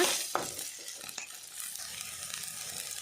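Egg green masala fries in a pan with a steady close sizzle, and a couple of utensil scrapes and clinks stand out near the start.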